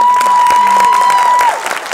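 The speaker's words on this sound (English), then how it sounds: "can I get a really big round of applause" Crowd applause and some cheering at a demo day event, close and loud, with a steady whistle-like tone running over the clapping before it thins out.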